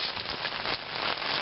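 Rain falling outdoors near a four-burner grill, a steady close hiss of drops spattering on surfaces with no talking over it.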